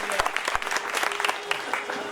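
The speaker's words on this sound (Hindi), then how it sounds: "एक बार इनके सम्मान में भी जोरदार तालियां होनी चाहिए।" Loud applause from a crowd at a public gathering, dense rapid clapping close by that fills the whole short stretch.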